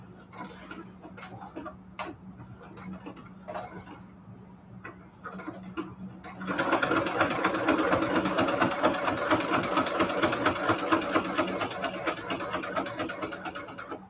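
Soft mechanical ticking at first, then a sewing machine starts stitching, a loud, steady rapid whirring chatter that runs on continuously.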